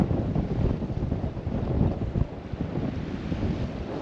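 Wind gusts buffet a sailboat lying at anchor, a rough, continuous rumble of blowing air and microphone buffeting that swells and eases, with no voices.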